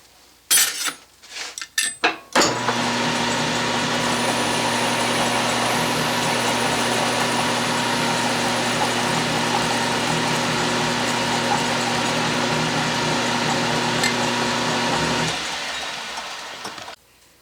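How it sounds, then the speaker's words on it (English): Cutoff tool in a metal shop cuts a 1/4 inch rod to length, a sustained close grinding whine with some clanking of metal at the start, running about thirteen seconds before winding down. "with a cutoff tool, I'm cutting it off to 1 inch"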